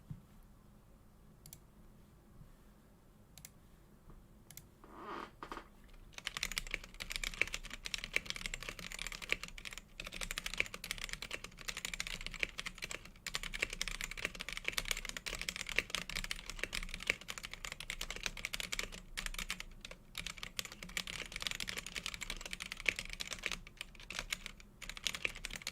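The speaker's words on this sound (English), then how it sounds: "now I think a quick typing demonstration, so you get a nice idea of what it sounds like" Fast, continuous typing on a custom-built keyboard, close and clear, with dense clicking keystrokes running steadily after a few quiet seconds.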